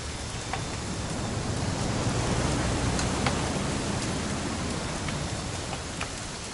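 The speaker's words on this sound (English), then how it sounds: "It's gonna rain the whole weekend, isn't it?" Steady rain pours in the video game What Remains of Edith Finch, a dense, even hiss of drops falling on surfaces with faint individual splatters, continuous and enveloping without voices.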